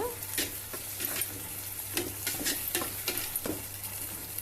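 Tomato paste frying in oil for a curry sizzles steadily up close, broken by repeated scraping stirs of a spoon in the pan, with a low hum underneath.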